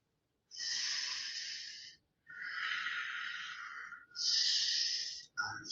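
Deep yogic breaths during a held pose come as three long, airy, hissing exhales close to the microphone, each a second or two long and separated by short silences, with another breath starting at the end.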